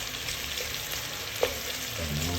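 Ginger sautéing in a pan for chicken tinola, a steady close sizzle and crackle of frying with a brief stirring knock midway.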